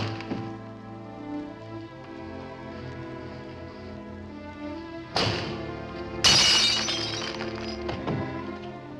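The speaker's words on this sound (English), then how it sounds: "if you shatter a pane of glass in the dead of night, it makes a noise" A glass window pane shatters loudly in two bursts, a sudden crash followed by a bigger, brighter breaking smash, set against a steady background of music.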